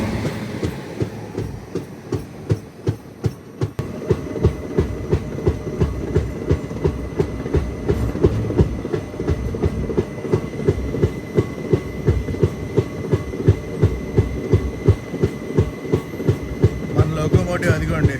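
A special passenger train from Hyderabad to Arunachalam runs on rails, its wheels beating a steady, loud clickety-clack rhythm over joints with a continuous rumbling roar, heard from on board.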